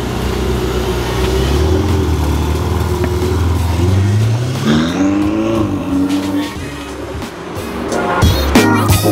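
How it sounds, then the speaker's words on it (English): A Dodge Challenger Scat Pack V8 revs nearby, its deep rumbling idle climbing into several rising and falling throttle blips before settling, then surging loud again near the end. "throw me a little rev, dude"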